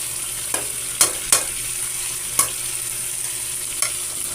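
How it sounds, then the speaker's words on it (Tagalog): Tomato, garlic and onion sauté in a pan as a base for Filipino monggo, a soft, even sizzle punctuated by several sharp clicks of a utensil striking the pan at irregular intervals. "Lagay natin yung kamatis tsaka bawang,"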